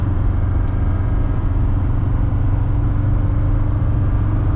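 A 1977 Mercedes 300D diesel with 365,000 miles climbs a gentle hill after an upshift, its engine a loud, steady low rumble that stays even and continuous throughout.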